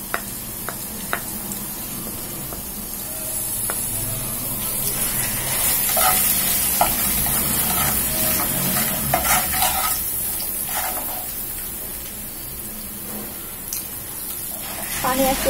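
Turmeric, chili powder and onion paste fry in hot oil in a frying pan for a bitter gourd curry. A steady, close sizzle runs throughout, broken by occasional stirring scrapes and faint voices in the background.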